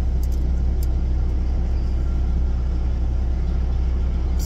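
A truck engine idles steadily with the cab heater running in cold weather, a constant low rumble with a faint steady hum, unbroken and fairly close, with no talking.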